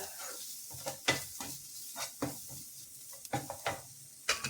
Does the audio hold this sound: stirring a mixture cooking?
yes